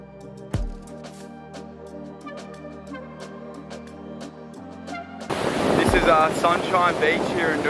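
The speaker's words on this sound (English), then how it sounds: "It's a bit windy down here" A steady humming tone gives way to a loud rush of wind and surf at Sunshine Beach, Noosa, for the last few seconds.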